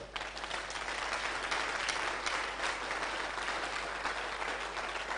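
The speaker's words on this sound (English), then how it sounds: "If you can, help me appreciate MTN by putting your hands together." Sustained applause from a live event audience for the sponsor MTN, steady dense clapping that fills the whole stretch without letting up.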